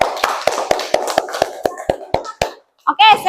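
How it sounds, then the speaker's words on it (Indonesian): A class of children claps hands in a quick, steady run of sharp claps that lasts about two and a half seconds, then a voice speaks briefly. "Tepuk tangan untuk kelas"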